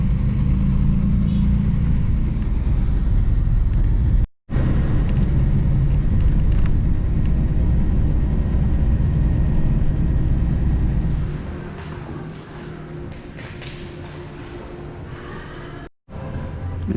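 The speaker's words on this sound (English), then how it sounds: "now we're sitting in a little gridlock traffic" Car idling in slow gridlock traffic heading toward Manila in the Philippines, a steady low engine rumble filling the interior for the whole stretch, easing quieter toward the end with two brief dropouts.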